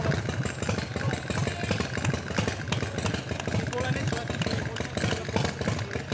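A motorcycle engine runs close by with a rough, pulsing rumble and clattering mechanical texture, holding steady with small surges; voices are heard around it.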